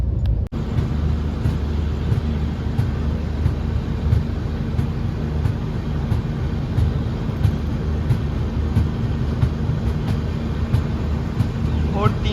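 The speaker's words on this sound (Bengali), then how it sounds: "ভোর 3:25 আমাদের ট্রেন ধীরে ধীরে ফারাক্কা জাংশন স্কিপ করছে" A Garib Rath Express train runs at night past Farakka Junction, with a continuous loud rumble of wheels and carriage noise heard from inside throughout.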